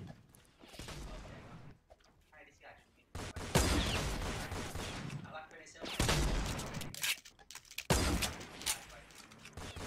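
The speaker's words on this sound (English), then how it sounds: "Someone shooting at me!" Repeated loud bursts of gunfire in the Roblox game Fortnite Simulator, several volleys in a row with brief gaps between them, while a player talks over the shooting.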